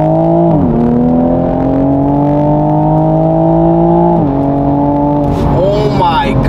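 Lexus IS350 accelerating hard under full throttle, engine note climbing steadily through the gears with a shift near the start and another midway, loud and close from inside the cabin.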